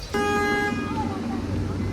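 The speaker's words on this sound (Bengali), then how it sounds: "এখানে গাড়ি কি হর্ন মারে দেখুন, প্রচুর হর্ন আছে এখানে, প্রচণ্ড হর্ন মারে" A car horn blares sharply in Buenos Aires street traffic, one long honk followed by a shorter tone over the constant rumble of engines and road noise.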